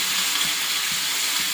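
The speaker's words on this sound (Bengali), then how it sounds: "এখন দিয়েছি কড়ার মধ্যে পেঁয়াজটাও ভাজা হয়ে গেছে" Onion and pumpkin fry in a kadai with a soft, steady hiss of sizzling oil that holds evenly throughout, with faint stirring underneath.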